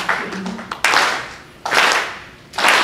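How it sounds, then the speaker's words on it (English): A symposium audience claps in unison, producing three loud, broad claps of many hands together, spaced roughly a second apart in a slow, steady beat, with a little scattered clapping and a brief voice before the first. "if everybody in the room would just clap to a count of 4 and just keep doing that"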